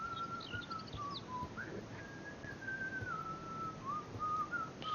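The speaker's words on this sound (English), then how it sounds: "and a whistling person" A person whistles a sustained, wavering tune with gliding pitch changes, faint and somewhat distant against a quiet ambient background in a game setting.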